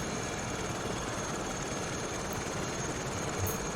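Engine and rotor roar of a LAMA SA315B helicopter rising in Microsoft Flight Simulator 2020, a dense, steady, loud wash of noise holding constant with no talk.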